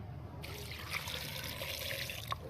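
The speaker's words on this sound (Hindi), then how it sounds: "अब हमने इसमें डाल लेना है पानी।" Water pours into a pot of black chickpea curry (kala chana) already holding garlic, ginger, tomato and spices, starting after a brief pause as a steady, close splashing stream that runs to the end.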